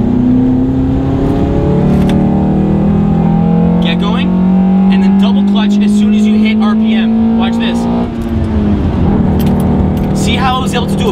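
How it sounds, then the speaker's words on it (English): Car engine revving through a double-clutch downshift, a loud steady drone that dips and rises around the gear change, with someone talking over it throughout. "double clutch downshift just like that."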